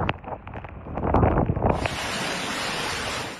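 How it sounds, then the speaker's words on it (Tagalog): Typhoon wind and rain lashing Basco, Batanes, a loud continuous roar of gusting wind and rushing water with microphone buffeting, swelling midway and then holding as a steady hiss. "Sa lakas ng hangin at ulan, halos zero visibility na sa Basco."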